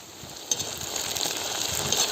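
A steady, soft hiss of food frying in a pan, with faint crackles and no talking.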